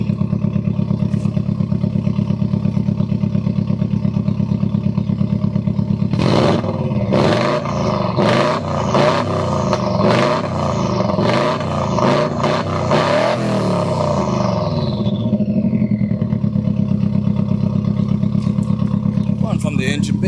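Rear exhaust of a 1994 Subaru Impreza WRX idles with a loud, rumbling burble, then a series of sharp throttle blips and rising revs rip through the middle before it settles back to a steady idle, recorded up close.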